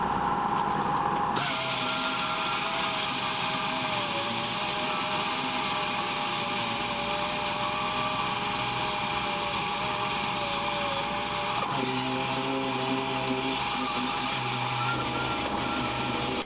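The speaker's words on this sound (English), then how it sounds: "I'm just going to use the DA again and sand it down a little bit" A DA sander works over a walnut and aluminum art piece, giving a continuous, fairly loud whirring hum with a steady pitch and a slight shift in tone partway through as the pressure changes.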